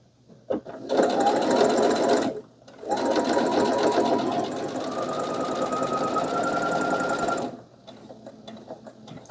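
A sewing machine stitches an apron with a temporary seam at stitch length 3.5, running steadily and loud up close in two long bursts, with a short pause and a few brief stops before and after.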